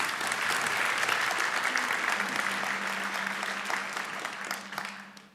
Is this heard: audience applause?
yes